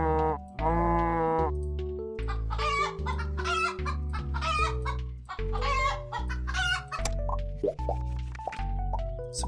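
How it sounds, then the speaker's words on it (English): Chickens clucking in a Starbound-themed card video game, heard as loud, layered game sound effects of fowl clucks and squawks over a steady synthesized music bed, continuous throughout. "We'll take some chickens."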